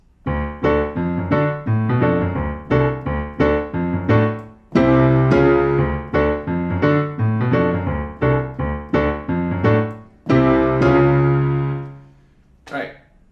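A piano plays the 1980s Grange Hill theme intro: a steady passage of repeated chords with a rhythmic left-hand riff, shifting harmony partway through and ending on a held chord.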